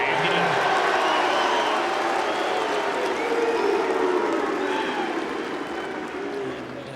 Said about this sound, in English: it's see you from the Cristiano Ronaldo celebration